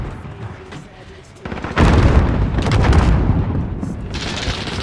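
Video game gunfire, heavy booming bursts of shots that swell abruptly and roll on loudly, with a quieter stretch of game noise before them.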